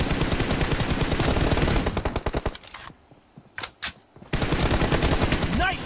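Long bursts of rapid automatic gunfire in PUBG, loud and close, break off into a near-silent gap with a couple of isolated shots, then resume in another sustained volley.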